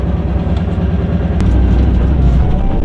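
Swapped-in LS2 V8 in a BMW E46 runs at a steady, smooth rumble, a continuous deep engine drone that swells slightly louder partway through, with no talking.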